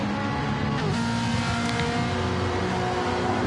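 Race car engines in a GR4 racing video game, including a Mustang and a Honda, drone loudly and continuously at high speed with no gaps.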